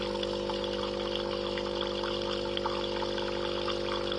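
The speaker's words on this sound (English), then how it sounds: "that's just hot water going in there" A stainless steel Breville Barista Max espresso machine dispenses hot water into a cup, a continuous pouring trickle over the steady hum of its pump, close and even throughout.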